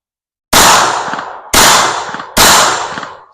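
Smith & Wesson Bodyguard 2.0 .380 pocket pistol firing on a range: three loud, sharp shots about a second apart, each decaying quickly, with no talk.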